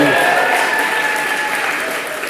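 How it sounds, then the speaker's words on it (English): Audience applause at a heritage awards ceremony, a dense sustained burst of clapping filling the whole moment at close, loud level, with voices mixed in. "I love it that you're all clapping"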